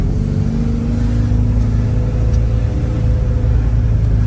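A 1987 VW Vanagon Syncro Westfalia engine with off-idle hesitation from a faulty throttle body runs loud and close, a low steady rumble that swells slightly as throttle is applied, with no talking.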